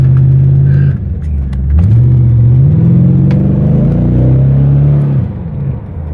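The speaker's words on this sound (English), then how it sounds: "You gotta be careful with this Magnaflow exhaust too." A 1995 Chevrolet Corvette C4 with a Magnaflow exhaust accelerates, its loud engine note dipping and then climbing as it revs up through the gears before settling, close and prominent.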